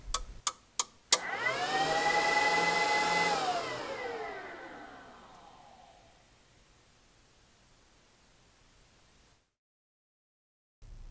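A Rockford Fosgate T1500-1bdCP car amplifier on a dyno test bench: a few sharp clicks, then a steady whining test tone and hiss that fades out over several seconds into silence.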